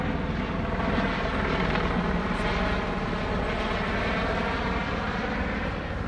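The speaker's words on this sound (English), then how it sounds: "We have a helicopter coming over" A helicopter passes overhead above a flooded neighbourhood in Goshen, its loud continuous rotor thump and engine roar filling the air steadily throughout with no voices.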